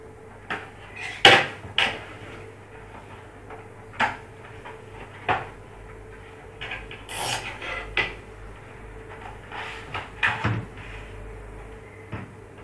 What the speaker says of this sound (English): Now I am unboxing the SSD.